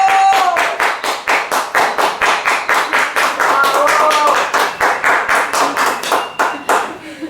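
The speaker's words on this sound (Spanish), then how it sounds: "Quiero que recibamos con un muy fuerte aplauso a Melissa Pinzón." Loud, close rhythmic clapping from an audience welcoming a guest at a talk event, hands striking in unison about four times a second, with a voice calling out over it briefly.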